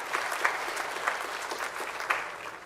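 Audience applause at the close of a Longwood seminar on stem cells, a steady, dense clapping from a seated crowd with a few sharper individual claps standing out, no talking over it.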